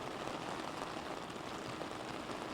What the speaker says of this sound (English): Despite the rain that we're seeing right now